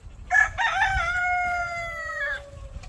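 A gray rooster crows once, a loud, clear cock-a-doodle-doo with a long drawn-out final note, close by, over faint background noise.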